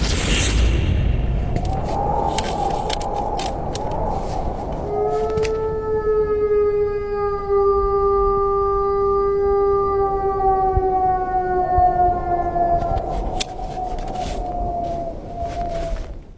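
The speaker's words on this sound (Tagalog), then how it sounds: "Maraming naniniwala na ang tunog ay mula sa isang timber wolf." A timber wolf's long, wavering howl at night rises and slowly falls in pitch, eerie and distant-sounding over a steady background hiss, with a second fainter howl at the start.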